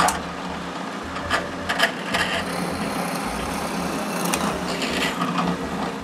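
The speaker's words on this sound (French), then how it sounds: "je perce un trou de 5/16e au centre pour pouvoir y insérer la tige filetée" A drill bores a 5/16-inch hole through the centre of a wooden piece for a shoe rack, a close, grinding whir with rising and falling pitch and scattered scraping bursts.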